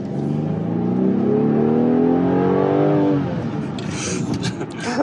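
A Rolls-Royce Wraith V12 engine revs up under hard acceleration, a loud rising engine note that climbs steadily for about three seconds before easing off, heard from inside the car.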